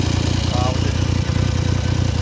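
A 1971 Triumph Trident 750 T150V motorcycle engine runs loud and close, a steady rapid throbbing pulse with a brief higher whine partway through.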